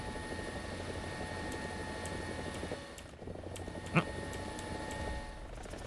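Helicopter rotor and engine in War Thunder's helicopter mode: a steady, fairly quiet whirring drone with a thin high whine that dips briefly, then one sharp click near the end, no talk.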